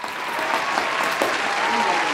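A round of steady, dense applause from a group during anniversary couples' games, loud and sustained with a few voices underneath.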